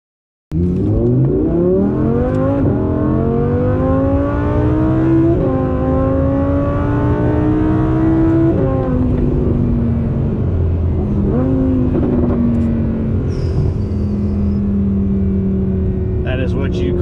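A Vorsteiner-modified 2017 Audi R8 pulls hard on a highway, its engine note climbing loud and close through several gears, each upshift dropping the pitch before the rising whine builds again.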